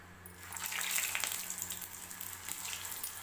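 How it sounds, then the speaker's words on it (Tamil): Steady crackling sizzle of bread tikki shallow frying in oil, close and continuous, over a low electrical hum. "இந்த மாதிரி ஷேலோ ஃப்ரை பண்ணிக்கலாம்."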